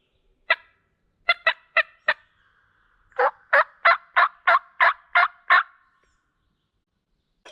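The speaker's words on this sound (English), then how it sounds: "He's still gobbling, I think." A wild turkey gobbler calls near a creek: four quick gobbles, a short pause, then a longer run of eight rattling gobbles in steady rhythm, clear and moderately distant in otherwise quiet woods.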